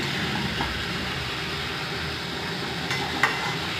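Chopped banana flower frying with cumin and coriander spices in a pan, a soft continuous sizzle with a couple of light scrape clicks near the end, no talk.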